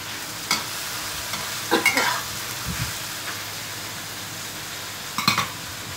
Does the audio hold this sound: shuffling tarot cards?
no